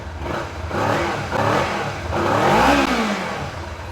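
A Kawasaki Ninja 300 motorcycle with a stock muffler and catalytic converter revs three times in a row, each blip rising and falling, loud and close with no talking.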